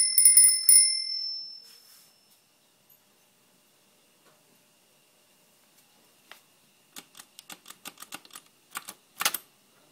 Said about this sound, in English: Stuck a little bell on there.